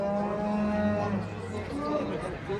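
A bull lowing at a busy livestock market in Karakol, with sustained harmonic moos carrying over a constant background of crowd chatter and voices.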